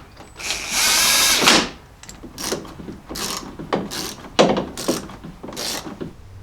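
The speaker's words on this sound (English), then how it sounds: "Now we just need to put our two 10mm bolts back into place." Ratcheting and mechanical clicking while two 10mm bolts are tightened back into a 2009-2018 Ram truck headlight, opening with a loud sustained buzz of a power tool, then a series of close, uneven ratchet bursts.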